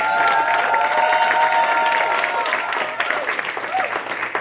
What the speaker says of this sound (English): A cheer for our teachers.